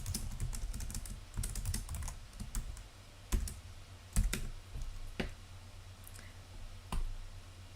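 Typing on a computer keyboard close by, with quick irregular keystrokes and a few louder clicks over a low steady hum.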